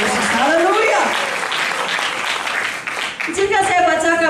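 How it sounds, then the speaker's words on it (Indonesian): Applause breaks out at a church seminar, a dense wash of clapping that swells through the middle, with voices talking over it at the start and end. "Kalau mau tepuk tangan yang meriah untuk Tuhan Yesus."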